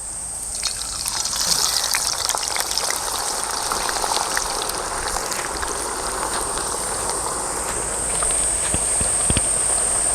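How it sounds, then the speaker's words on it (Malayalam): Cut potato sticks for spicy French fries bubble in hot oil, a steady, moderately loud fizzing sizzle with faint scattered crackles running throughout. "നമുക്കിത് കട്ട് ചെയ്തെടുത്ത പൊട്ടറ്റോ നമുക്കൊന്ന് ഈ എണ്ണയിലിടാം."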